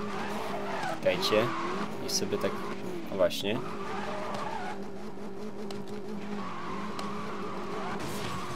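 A Porsche 918 Spyder Concept in a racing game, its engine droning steadily with bursts of tire squeal from wheelspin, while someone talks over it.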